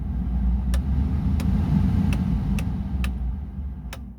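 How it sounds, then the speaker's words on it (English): HVAC blower fan in a John Deere 310SG backhoe cab, running as a steady low whooshing drone with a faint regular ticking about every half second over it, close and with no talk. "fortunately I got to have the fan on making some noise"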